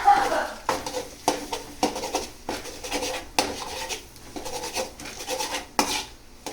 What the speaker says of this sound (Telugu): ఇప్పుడు ఇవన్నిటిని మిక్స్ చేసుకోవాలి